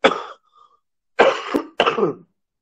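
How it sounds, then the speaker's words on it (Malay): Three loud, close coughs: one short burst, then a pause, then two more in quick succession, harsh and throaty with nothing else around them. "batuk pula."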